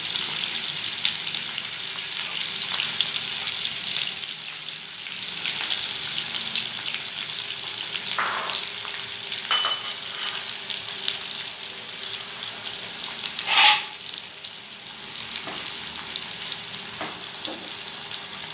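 Onion sizzles steadily in hot oil in a home kitchen pan, a constant bright hiss with occasional stirring scrapes and one louder crackling burst midway.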